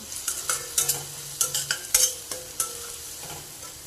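Turmeric and masala powder being stirred into softened frying tomatoes for a dried-shrimp javla chutney, with a spoon scraping and tapping against the pan in irregular strokes over a soft sizzle, close and fairly loud.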